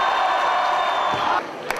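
A wrestling crowd at a catch wrestling world championship event roars and cheers for the winner, loud and sustained, then drops away abruptly near the end.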